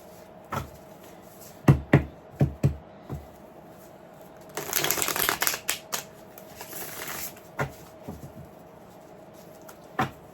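Tarot cards are handled at close range: scattered sharp snaps and taps, then a dense riffling burst of shuffling in the middle, followed by a few more isolated card clicks, with no talking.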